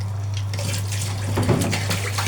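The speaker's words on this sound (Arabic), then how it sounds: "هنزودها شويه ميه صغيره" A little water pours steadily into a tray of potatoes and meat at close range, a brief rushing splash over a low electrical hum.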